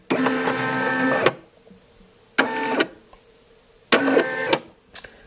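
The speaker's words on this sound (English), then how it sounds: "Pressing the button, it's going to rotate everywhere that this design is getting ready to stitch." An embroidery machine drives its hoop around to trace a patch design, making three separate whirring, buzzing motor runs with quiet pauses between them, close up.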